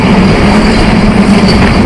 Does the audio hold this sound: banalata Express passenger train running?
yes